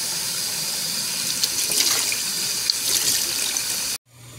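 Chicken gizzards rinsed under a running kitchen tap, a steady close splashing rush of water that cuts off abruptly near the end, leaving a brief quiet hum.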